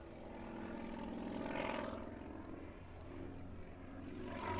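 A Sukhoi Su-26 aerobatic propeller plane flies at an airshow, its engine drone a sustained, fairly loud buzz that swells and eases slightly as it passes, with no talk.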